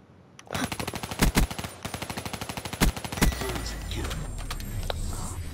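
Rapid automatic gunfire from a weapon in Call of Duty: Black Ops 3, long loud bursts of evenly spaced shots with a few heavier blasts, then a rumbling tail with scattered game effects.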